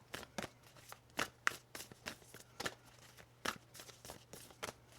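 A deck of Moonology oracle cards being shuffled: quick, crisp papery riffles and slaps in uneven bursts, close and fairly quiet, with no voices.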